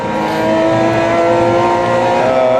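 A Porsche Cayman GT4 Clubsport's engine in a racing simulator game holds a steady, loud, close drone with a clear tonal whine throughout, alone without any talk.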